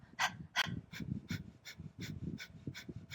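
Rapid, rhythmic breath-of-fire breathing through the nose, short forceful puffs repeating evenly about three times a second, close and fairly quiet.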